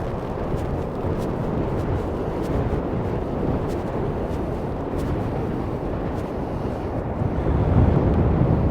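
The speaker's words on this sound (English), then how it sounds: "it's mega windy." Strong coastal wind at Hemsby beach on the Norfolk coast buffets the microphone in a constant loud roar, with surf rumbling beneath and a gust swelling near the end.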